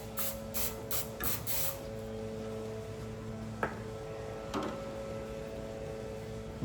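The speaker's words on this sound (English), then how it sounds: "We'll spray it with cooking spray." Cooking spray hisses into a metal bread pan in a few quick bursts, then a couple of faint clicks and quiet kitchen hum.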